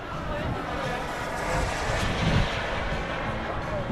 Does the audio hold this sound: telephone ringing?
no